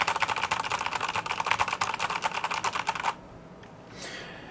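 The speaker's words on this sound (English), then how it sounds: "Say you had to do a presentation and you were like furiously typing on the keyboard." Fast, furious typing on a computer keyboard, a dense run of close clicks for about three seconds, then stopping, with only faint room noise and a soft rustle afterward.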